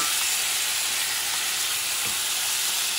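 Bison meat sizzles loudly and steadily in a cast iron pot as it goes back in for a braised stew, a close, constant hiss of frying with faint stirring underneath and no voices.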